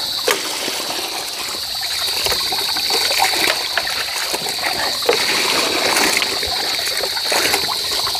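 Water splashes and gushes steadily up close during rinsing, a continuous loud watery wash with scattered sharper splatters and no voices.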